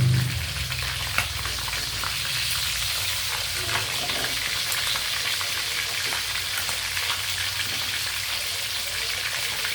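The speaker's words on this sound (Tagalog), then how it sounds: "piniprito natin tilapia." Oil sizzles and crackles steadily as tilapia fries in a pan, a dense, continuous hiss with scattered pops and an occasional scrape of stirring.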